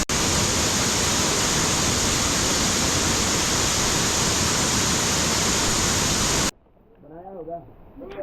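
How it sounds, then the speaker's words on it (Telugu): A waterfall at the Garden of Caves near Shillong, Meghalaya, roars as a loud, steady, close rush of falling water for several seconds. It then cuts abruptly to a much quieter scene where a voice is heard. "వాటర్ అయితే సూపర్ ఉన్నాయి వాటర్ ఫాల్ ఇది"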